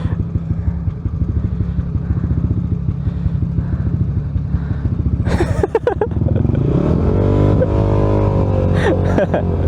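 A modified motorcycle idles with a throbbing, clattering engine, then revs hard and pulls away, its note rising and smoothing into a loud, close acceleration.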